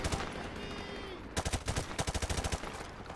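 Gunfire in Call of Duty Modern Warfare Remastered: after a steady noisy stretch, a rapid automatic burst of about a dozen loud, evenly spaced shots rattles close by.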